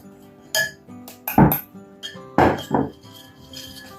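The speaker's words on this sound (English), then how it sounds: "as I'm whisking, I add the flour. Good old whisk." A whisk beating batter for toad in the hole in a bowl, with a few separate clinking strokes against the bowl, close and fairly loud, with quiet gaps between them.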